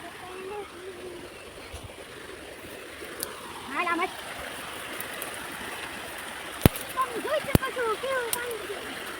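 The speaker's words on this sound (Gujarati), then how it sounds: "પાણીનો અવાજ કેવો સારો આવે છે" Water runs steadily through a small stream channel beside farm fields, a continuous broadband rush with a few brief splashes, while people talk over it throughout.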